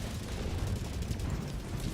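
An orbital airstrike in Helldivers 2 on Helldive difficulty 9 produces a continuous, loud rumbling blast with dense low-end roar that sustains for the full two seconds without a break.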